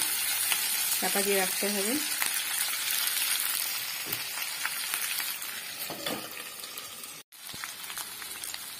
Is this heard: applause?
no